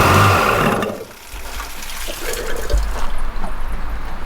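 A Sea-Doo personal watercraft, salvaged from a no-start condition, runs its engine while the water pump sprays a steady rush of water, loud and close, with a low engine rumble underneath and no talk.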